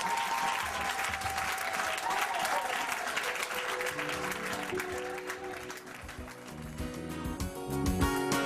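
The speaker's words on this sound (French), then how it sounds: "Applaudissez pour le Seigneur" Congregation applauding for the Lord during a church service, dense sustained clapping from a crowd with singing voices and music rising beneath it toward the end.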